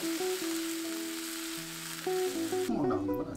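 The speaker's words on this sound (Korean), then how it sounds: "감자 채 썰어 볶고요." Julienned potatoes stir-fry in a pan for a Korean potato side dish, giving a steady sizzle under tonal background music that shifts near the end.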